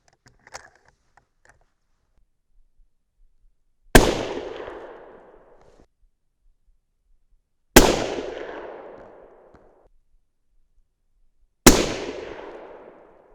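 Three loud rifle shots from a 300 Win Mag, spaced several seconds apart, each a sharp crack trailing off in a decaying echo, with faint small clicks before the first.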